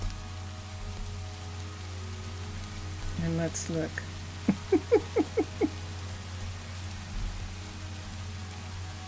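Steady, even patter of rain in the Minecraft world, a continuous soft hiss that holds at constant level throughout, with a voice speaking briefly over it partway through.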